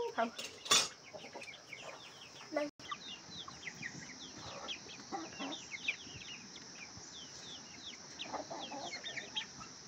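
Village chickens being fed rice cluck and chatter close by in quick scattered bursts, with a few clinks and knocks in the background.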